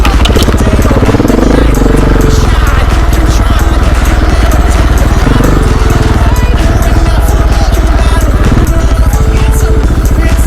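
Gas dirt bike engine revving hard and riding on a single-track trail, loud and close throughout with a rough, clattering motor note and voices talking over it.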